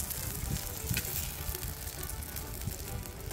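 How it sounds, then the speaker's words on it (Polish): Cutlets fry on a wood-burning camp stove with a steady, faint crackling sizzle and occasional pops, heard alone without talking. "w tej chwili fajnie się zaczyna smażyć. Kotleciki"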